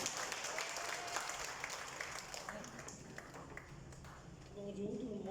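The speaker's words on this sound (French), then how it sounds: "Vanessa, faites grand applaudissement pour lui, s'il vous plaît." A crowd applauds at the inauguration of a children's early-learning centre in Mauritius. The clapping is moderate and continuous, with people talking over it and a voice rising near the end.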